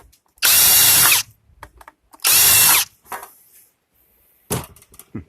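A power drill whirs loudly in two bursts of about a second each, driving a sharpened drill bit, followed by quieter scraping and clicking sounds.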